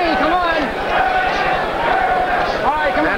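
A boxing arena crowd chants the name Berbick in a steady rhythmic pulse at the Larry Holmes vs Trevor Berbick 1981 fight, loud and continuous under a commentator's speech.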